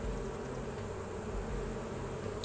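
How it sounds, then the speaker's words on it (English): A dense, steady hum of many honey bees at an Apimaye hive fills the clip, continuous and fairly close, with no talking. "we got these bees in this Apimaye hive"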